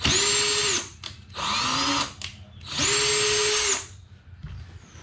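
A power drill whirs loudly in three bursts, spinning up and biting into a Chrysler 300's front bumper, with short quiet gaps between runs.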